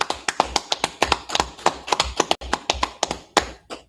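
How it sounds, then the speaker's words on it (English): Rhythmic hand clapping at a Shabbat worship service, steady sharp claps repeating about four times a second, close and fairly loud, with no talk over them. "Clap it up"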